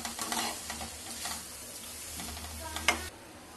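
Aloo gobhi with spices and salt stirred in a frying pan: a close, steady sizzle of frying with scraping stir strokes and a small clink near the end, no talking.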